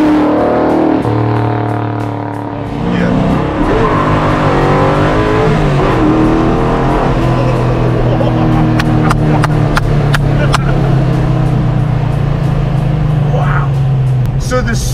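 A 700 hp naturally aspirated Foxbody Mustang V8 roars at full throttle, rising and dipping as the driver backs off and floors it again, loud and close with people talking over it.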